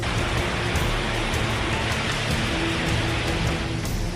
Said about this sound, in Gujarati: પાણીનો આ ધસમસતો પ્રવાહ ગિરનાર પર એટલો વરસાદ પડ્યો કે ડુંગર પરથી આ ધોધ